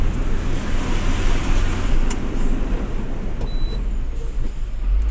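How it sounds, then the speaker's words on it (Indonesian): Truck engine droning steadily while climbing a mountain road in fourth gear, with rumbling low noise, wind and a brief hiss or clunk like a gear change; no talk. "ini bunyi gigi berapa ini kalau ada bunyi begitu Bapak Sugeng?"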